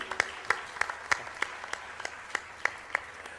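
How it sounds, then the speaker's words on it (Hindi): A crowd at a Hindu religious discourse claps in unison, a steady, evenly spaced rhythm of sharp claps over a soft background wash. "एक बार ताली बजाइए।"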